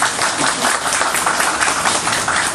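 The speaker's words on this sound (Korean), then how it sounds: "박수 한번 하시죠." A church congregation breaks into applause for a member's promotion, a full, even burst of many hands clapping with no talk over it.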